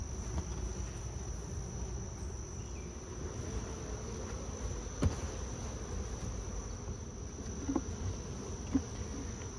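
Honey bees hum around their hives during a summer heat wave, a steady dense low buzz that fills the whole clip, with a thin high insect tone above it and a few faint knocks.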